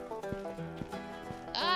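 Cattle being driven in a Wild West ranching video game, with overlapping animal bleats and lowing calls in a dense, steady herd soundscape that rises into a brighter burst near the end.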